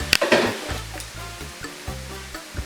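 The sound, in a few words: stirring rice noodles with vegetables and chicken in a pan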